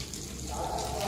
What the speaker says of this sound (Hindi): ये देख सकते हो पानी डलना स्टार्ट हो चुका है।